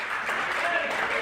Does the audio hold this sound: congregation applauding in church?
yes